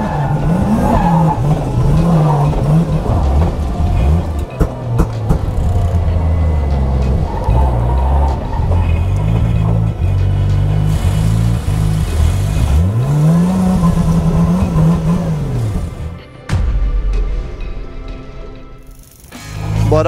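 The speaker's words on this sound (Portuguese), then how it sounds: "Meu carro tá falhando." Drift car with its engine misfiring at a drift event, loud uneven revving that rises and falls with stuttering gaps, tires screeching, and a brief dropout near the end.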